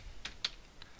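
Three quiet, close key taps on a computer keyboard enter numbers into a spreadsheet, spaced unevenly within about a second.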